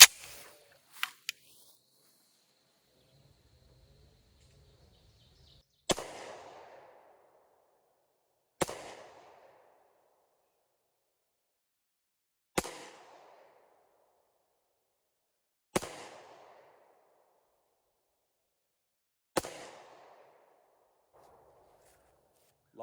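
Five loud gunshots from a Rock Island 1911 pistol firing Underwood 45 Super 255-grain hard cast rounds, spaced a few seconds apart, each a sharp crack with a short outdoor decay, after some faint handling clicks.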